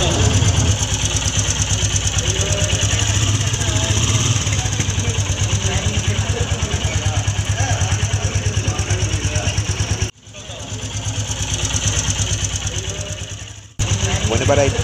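A Royal Enfield Meteor cruiser motorcycle engine runs steadily and loudly throughout with an even, pulsing throb, dipping briefly near the end before resuming; no talking is heard over it.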